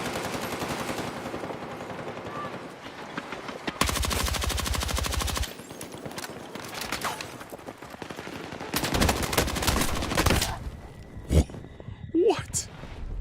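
Rapid automatic gunfire in the video game Marathon comes in loud bursts of fast, close shots separated by quieter gaps, with talking mixed in over the action.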